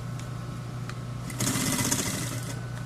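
A sewing machine top-stitches a motorcycle seat cover during reupholstery, first a low steady hum, then a faster, louder run of rapid needle clatter for over a second, close by with no talking.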